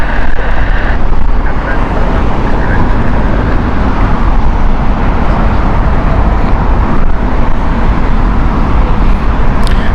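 A plane arriving at Heathrow Airport roars steadily and loudly for the whole stretch, a broad continuous rumble with wind buffeting on the microphone and no talk over it.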